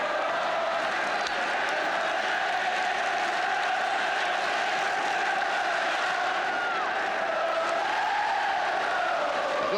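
Football stadium crowd at a Chelsea versus Manchester United match, a broad sustained roar of cheering and whistles that swells steadily with no break.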